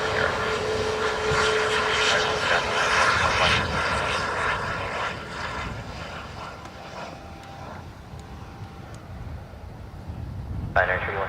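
Aircraft engines at Dublin Airport during plane spotting: a broad jet roar, louder at first and slowly fading as the aircraft moves away, with faint radio-style voices in the background.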